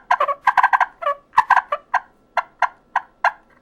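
Rapid, raspy yelps and clucks from a turkey box call, a small wooden box with a twisting lid, mimicking two turkeys fighting; sharp bursts come in quick clusters, then spaced single calls, loud and close.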